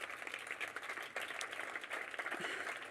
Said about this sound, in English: So a big applause to the whole team.